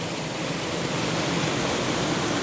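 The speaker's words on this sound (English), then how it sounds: "I just had a bathe under that waterfall." A waterfall pours in a steady, dense, close roar of rushing water, unbroken and alone for the whole stretch.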